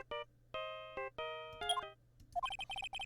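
A cell phone ringtone in the Phoenix Wright: Ace Attorney video game plays the Steel Samurai theme song, a bright electronic melody of sustained tones followed by a quicker run of repeated notes, with no talking.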